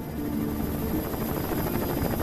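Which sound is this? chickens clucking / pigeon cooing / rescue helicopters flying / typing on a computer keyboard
rescue helicopters flying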